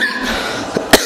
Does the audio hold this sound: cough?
yes